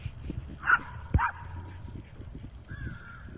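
A chihuahua and several big dogs play a chasing game outdoors, with short yips and barks scattered over rustling movement and low background rumble, fairly close.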